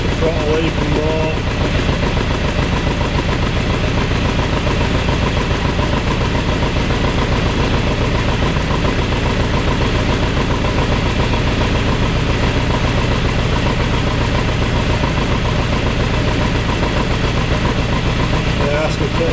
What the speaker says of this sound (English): that's me put off the throttle and it's idling there